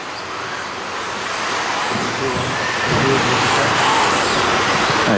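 4WD RC cars race on an indoor track in a Paris final, a steady broad whirring hiss of small motors and tires that swells slightly louder partway through.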